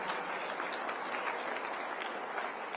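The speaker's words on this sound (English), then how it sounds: "You deserve a round of applause." A rally audience breaks into steady, dense applause, a continuous wash of many hands clapping at moderate volume with no speech over it.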